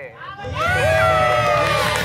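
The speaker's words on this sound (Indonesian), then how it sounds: "tepuk tangan dong buat Vindesaker" Audience at a Clash of Champions event breaks into loud, sustained cheering and shouting, with a voice over the crowd.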